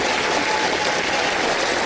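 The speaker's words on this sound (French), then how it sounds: "les gens se lèvent, applaudissent" A church congregation applauds in a dense, steady wash of clapping that fills the whole stretch without a break, with no voices standing out.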